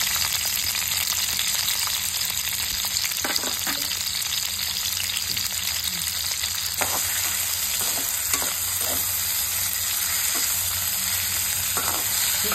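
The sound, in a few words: sliced onions frying in oil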